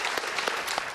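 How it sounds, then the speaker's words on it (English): A brief burst of audience clapping after a flute performance during an orchestra-week dance show, dense and even, lasting under a second. "A round of applause."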